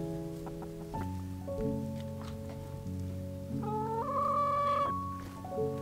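Backyard chickens near a coop give a steady run of tonal clucks and squawks, with a louder, rising call toward the end, heard up close with no talking.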